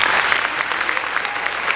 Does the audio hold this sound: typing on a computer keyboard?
no